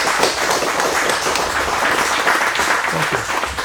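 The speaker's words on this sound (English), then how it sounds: "So let's have a round of applause" A live audience applauds at a Long Beach speaker series event, steady dense clapping that holds at an even level throughout, with no voices coming through.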